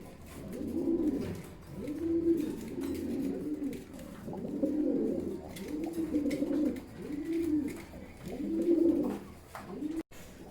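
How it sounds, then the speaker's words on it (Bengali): A pair of young Bombay pigeons at a pigeon sale coo close by in a steady rhythm, with about seven rounded, repeated coos and little else around them. "দর্শক এখানে একজোড়া বোম্বাই কবুতর দেখতে পাচ্ছেন"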